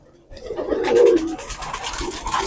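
A flock of purebred pigeons crowded into a rooftop loft coos in overlapping throaty calls close by, over rustling wings and shuffling from the many birds.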